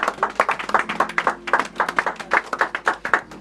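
A church congregation at a New Year's Eve service claps in praise of the Lord, with steady rhythmic clapping in unison from many hands, loud and sustained throughout.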